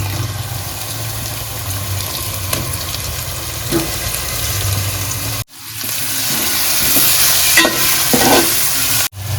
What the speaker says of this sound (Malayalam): വഴറ്റിയെടുത്ത ഉള്ളിയിലേക്ക് നമുക്ക് ഇഞ്ചി വെളുത്തുള്ളി മുളക് പേസ്റ്റ് ഇടാം അരിഞ്ഞു വെച്ച തക്കാളി ചേർത്ത് കൊടുക്കാം